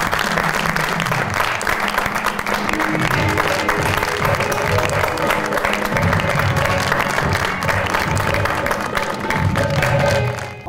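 A studio audience at a talk show applauds warmly to welcome a guest, with dense sustained clapping and crowd noise that stays loud throughout and fades out at the end.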